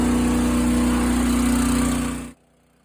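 A suction pump runs in a tank, mixing sugar syrup for bee feed, giving a loud, steady mechanical drone with a hum that cuts off abruptly near the end.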